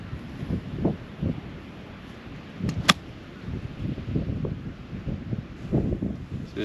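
Steady headwind gusting across a seaside golf course at Moliets, a continuous low rushing roar buffeting the microphone, rising and falling in uneven swells with no talking.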